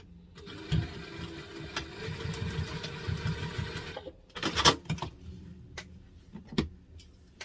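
A sewing machine tacks a seam closed on a small double-zip fabric wallet, making a quick burst of rapid stitching chatter at close range, then pausing among soft handling clicks and rustles.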